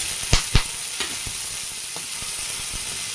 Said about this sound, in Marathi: तेल टाकलं ना तेलामुळे खमंग भाजते हे बघा तेलात मऊ पण होती मिरची